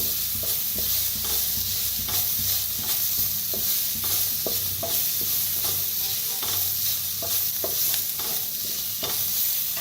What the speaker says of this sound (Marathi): आता थोडीशी हळद मिक्स करूया.